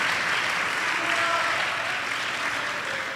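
A church congregation applauding God, steady crowd clapping that fills the space evenly, with a faint voice or tone rising briefly under the sound.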